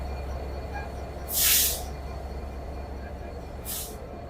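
A 66 series diesel locomotive hauling the Chitra Express idles with a steady low engine rumble, broken by two sharp bursts of air hiss, the first longer and louder, the second shorter.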